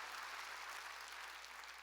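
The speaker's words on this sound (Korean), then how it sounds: "박수로 하나님께 영광을 돌려야 합니다" A church congregation claps together in praise during a sermon, a dense, even wash of applause sustained throughout, fairly faint and without speech.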